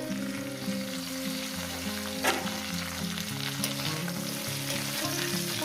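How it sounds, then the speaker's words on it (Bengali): Potato pieces frying in hot oil for a fish curry give a steady, dense sizzle with a few brief spatters, close up and with nobody speaking. "যতক্ষণ না আলু সুন্দর করে ভাজা হচ্ছে প্রথমে আমি শুধু ভিজিয়ে নেব"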